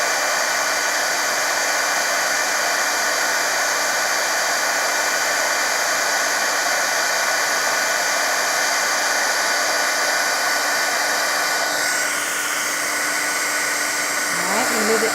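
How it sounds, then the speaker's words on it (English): A handheld craft heat tool for card making runs as a steady, loud blowing hiss throughout, its airflow tone constant for about fifteen seconds with a slight shift near the end. "I'm just going to let my heat tool heat up a little bit"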